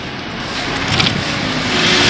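A car speeding up on an uneven road, its engine rising steadily over a rough, rumbling ride noise, loud and close from inside the vehicle, with no talking.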